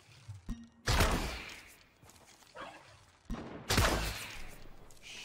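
Boom Bow shots fired in a video game: two loud booming blasts about three seconds apart, each a sharp impact followed by a decaying rumble, with softer thuds between them.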